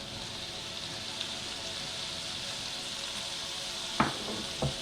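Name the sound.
food frying in a pan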